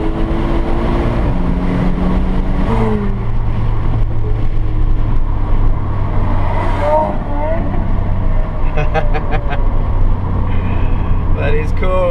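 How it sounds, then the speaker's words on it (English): A Ferrari accelerates past on a racing track, its engine note rising and sweeping while wind buffets nearby, and people talk over the steady roar. "Jeez, that Ferrari's pretty quick too."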